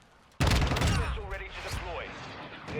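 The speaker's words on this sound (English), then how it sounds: "And the Predator missile." A Predator missile sound from the Modern Warfare 2 audio pack in Warzone 2, a loud sudden blast-like burst that sustains with rumbling and whooshing tones, and a voice briefly mixed in.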